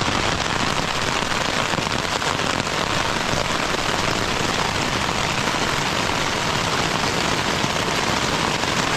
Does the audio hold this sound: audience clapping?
no